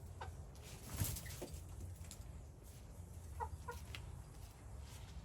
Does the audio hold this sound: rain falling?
no